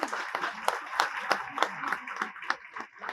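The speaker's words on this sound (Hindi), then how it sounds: "तालियों से आप लोग स्वागत करेंगे।" An audience at a political party gathering applauding to welcome leaders: a brief, moderate wave of clapping with distinct individual claps standing out, somewhat distant, mixed with crowd murmur.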